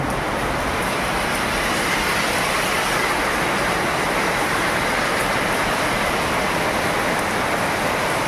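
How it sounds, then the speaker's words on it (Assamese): A thick, constant roar of downpour fills the whole clip, loud and unbroken, with no talking. "বৰষুণৰ বতৰ দিন দেখাই আছোঁ কিমান বৰষুণ"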